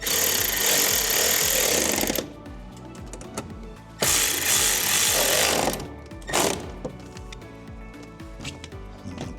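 Power tool whirs in loud bursts while fasteners are tightened on a C8 Corvette fender panel, two long runs separated by quieter ratcheting and clicks, then a short final burst.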